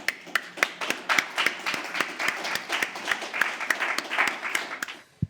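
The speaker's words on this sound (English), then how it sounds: "A round of applause." An audience at a live games-industry panel applauds steadily for several seconds, a dense patter of many hands clapping that stops abruptly at the end.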